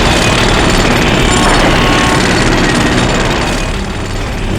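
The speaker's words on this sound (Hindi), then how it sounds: "तुम्हारे घर के बाहर मेट्रो कंस्ट्रक्शन के काम चलने की आवाज और ट्रैफिक" A jackhammer at a metro construction site pounds continuously and loudly beside traffic noise, a dense, harsh hammering that never lets up.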